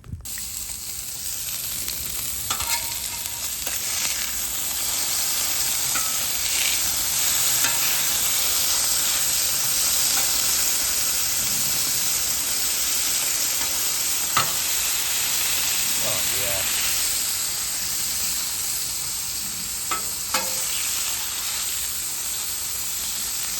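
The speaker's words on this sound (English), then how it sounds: "With the Blackstone heating up, we're going to toss the bacon on first. Then we're going to throw the burgers on." Bacon and wagyu burgers sizzle on a Blackstone griddle, a steady, dense frying hiss throughout with occasional faint pops and scrapes, close and continuous.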